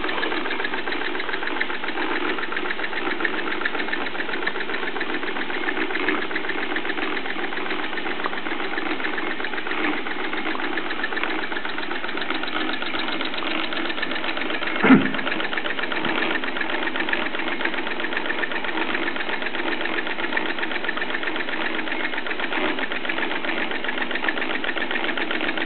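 Bowman M101 model engine fitted with an extra Meccano flywheel, running steadily with an even, rapid mechanical chuffing and knocking rhythm, close and moderate in level, with a single brief thump partway through and no talking.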